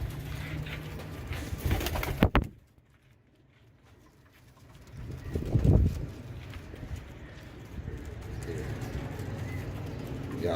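Tiger breed champion pigeons coo in low, soft bursts amid rustling and wing flutters, with a loud close flapping early on and a deeper coo swelling midway.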